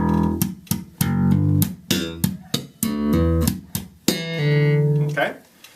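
Slap bass guitar groove played solo, a crisp rhythmic run of percussive slapped and popped notes with a pull-off, ending on a sustained low note, close and clear.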